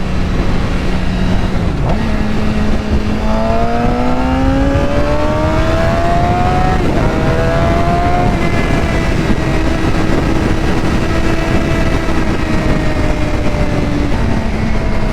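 A Suzuki GSXR 750 motorcycle engine under way, droning steadily and loud throughout, its pitch climbing through several gear-like rises and falls as the bike accelerates, with constant wind rush.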